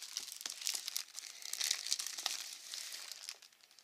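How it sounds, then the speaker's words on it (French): Small scissors cutting open the plastic packaging of a football magazine, with crinkling and snipping at close range in quick irregular bursts, the film rustling throughout. "mon petit ciseau habituel"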